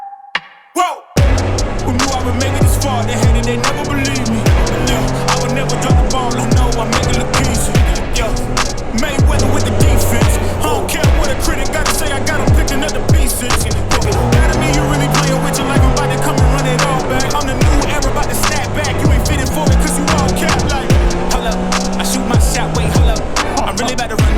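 A Can-Am Spyder RT Limited three-wheeler runs with a loud, steady engine note, its pitch rising and falling through repeated acceleration sweeps and gear changes, with constant road and wind rush for over twenty seconds.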